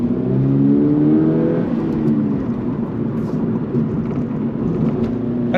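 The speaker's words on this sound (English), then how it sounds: "Heel toe downshifting is so wonderful in this vehicle, it really is." Engine of a 2025 Toyota GR86 Hakone Edition sports car during a heel-toe downshift: a loud, close rev sweep in the first seconds settles into a steady, rumbling drone with cabin road noise.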